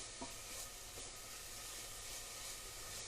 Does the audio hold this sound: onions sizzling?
yes